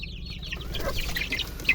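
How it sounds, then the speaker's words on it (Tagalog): Forty-day-old chicks in a backyard brood peep and cluck in quick, overlapping high chirps, close and moderately loud, with no talking. "yung aking mga sisiw, mga bagong papisa na sila, 40 days na"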